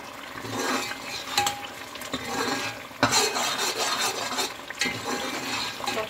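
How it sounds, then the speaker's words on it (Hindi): A spoon scrapes and clinks repeatedly against a pot as a thick spice paste for mutton paya sizzles while being fried and stirred, with irregular louder knocks. "अब मसाले को बहुत अच्छी तरह से हमने भूनना है ताकि इसकी स्मेल बिल्कुल ना रहे"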